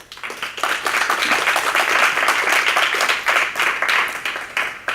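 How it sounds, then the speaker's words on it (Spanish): Audience applause greets the poet Armando Valladares at a tribute forum, a dense steady wash of many hands clapping that rises quickly, holds strong for several seconds and tapers slightly at the end, with no talking. "para quien pido un aplauso"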